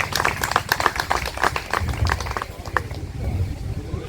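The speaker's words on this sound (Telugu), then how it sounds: "మంగళగిరి ఆర్యవైశ్య పెద్దలకు ఇంకొకసారి గట్టిగా క్లాప్స్" Audience at a community gathering in Mangalagiri applauding Arya Vysya elders, dense hand claps in an uneven rhythm, fairly close and loud, continuing for several seconds with no talk over them.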